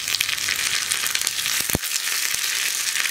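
Dried red chillies and curry leaves frying with onions in hot oil for padavalanga pachadi, a close, steady bright sizzle with a few brief crackles and pops.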